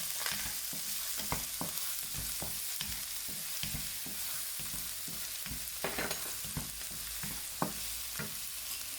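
Chopped garlic and chili sizzle steadily in a hot pan for a Chinese tofu dish, with a constant bright crackle and scattered small pops and stirring knocks, close and continuous, with no voices.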